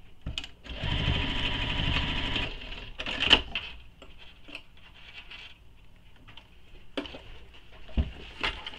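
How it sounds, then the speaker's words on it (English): A sewing machine stitches a nylon bag's main panel to its gusset in a rapid, even mechanical chatter for about two seconds, followed by quieter handling clicks and a couple of brief bursts of machine noise. "using the seam allowance, I'm going to sew across to attach that main panel to the gusset at the top"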